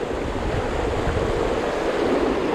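Fast-flowing river water on the North Fork where trout are fly-fished, a steady broadband rushing wash, loud and continuous with no talk.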